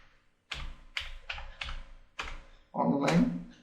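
Close bursts of typing on a computer keyboard in word-processing software, fast clustered keystrokes coming in several short runs, with someone speaking over the final run.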